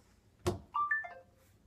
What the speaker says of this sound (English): I can literally swipe my phone. It'll make it buzz.